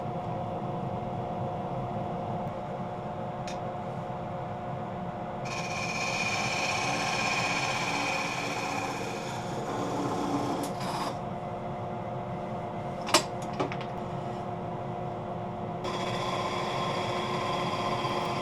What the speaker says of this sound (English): I'm going to give it some extra room, take it off on a big sander